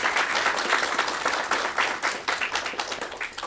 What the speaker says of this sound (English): let's do a round of applause for all the mentors and everyone that made this internship possible